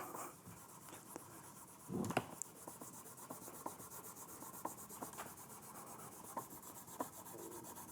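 Steady rubbing and scraping as fretboard cleaner is worked down the fingerboard of a guitar, with close, continuous friction, a louder scuff near the start and small ticks along the way, no talk.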